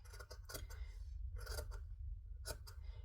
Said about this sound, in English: Slide the scissors in and cut along the line that I drew.